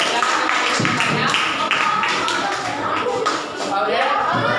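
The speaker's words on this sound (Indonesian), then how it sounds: "bagus tepuk tangan dulu. Tepuk tangan" A classroom of students applauds during a teaching practice lesson, with a burst of mixed, uneven clapping close by that continues for several seconds alongside voices.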